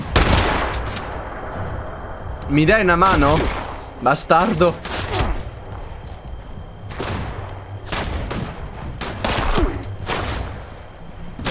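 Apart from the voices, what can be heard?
gunfire in video game Fallout 76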